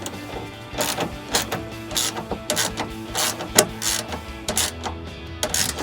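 A ratchet tightens a headlight mounting bolt on a 2003-2005 RAM 2500 during an LED projector headlight install, giving repeated bursts of close, crisp clicking with short pauses between strokes.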